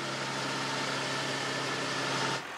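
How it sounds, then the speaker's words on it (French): A farm tractor engine runs steadily during cleanup after flooding, a continuous close mid-low drone with an even hum that cuts off abruptly near the end. "D'autres agriculteurs utilisent leur tracteur."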